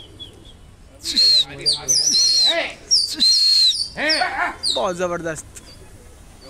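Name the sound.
pigeons cooing on rooftop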